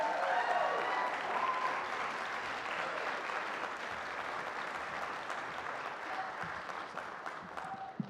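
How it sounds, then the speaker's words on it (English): An audience at a high school honor band concert gives sustained applause for the students, a broad, steady wash of clapping that slowly fades, heard from some distance in a large hall. "Can you give them one more round of applause,"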